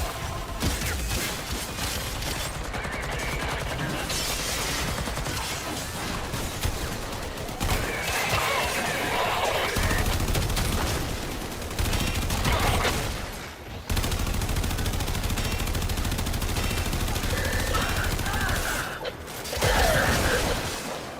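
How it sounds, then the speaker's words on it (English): Dense, sustained gunfire in the Warframe video game, with rapid bursts and clattering mechanical impacts that keep going almost without a break, loud and busy, dropping out only briefly a few times. "so many bullets."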